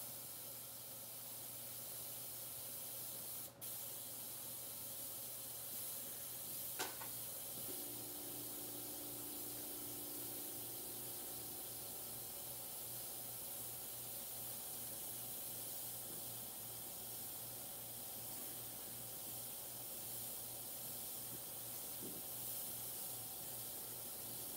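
A freehand airbrush sprays paint onto a dog portrait, a steady soft hiss running continuously throughout, with a low hum beneath it and a couple of faint clicks, and no voices.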